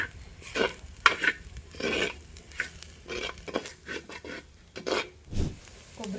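Masala of tomato and coriander leaves being fried and stirred in a pan for a Kerala-style bangude fish curry, with repeated scraping stirs and a soft sizzle running underneath, close and moderately loud, no talking.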